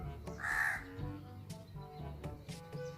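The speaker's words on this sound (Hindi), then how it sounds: "ये है हमारा प्यारा कौवा।" A crow caws loudly and close by, one harsh drawn-out call followed by a few shorter caws, heard in an outdoor setting with no talking.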